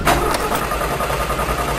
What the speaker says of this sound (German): Mann, das Auto geht nicht an.